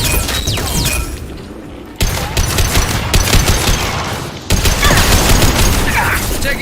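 Gunfire in Mass Effect Legendary Edition: a heavy, continuous barrage of rapid shots and impacts from a close firefight, loud and dense throughout with a few abrupt shifts in intensity.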